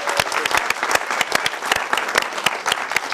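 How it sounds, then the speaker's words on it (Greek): An audience at a Greek cultural association event gives warm applause, dense and close with distinct sharp claps in a lively, uneven rhythm, continuing steadily for a few seconds with no talking. "ένα ζεστό χειροκρότημα"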